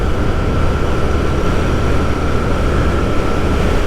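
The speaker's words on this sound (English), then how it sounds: "I just really hear wind noise at this point" Steady broadband wind rush while riding a 2021 Royal Enfield Continental GT fitted with an AEW exhaust, a constant loud roar with a faint low engine drone beneath and no speech.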